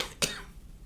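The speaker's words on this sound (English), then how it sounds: "excuse my cough here." One short, sharp cough in a courtroom during a trial, close and fairly loud, followed by quiet.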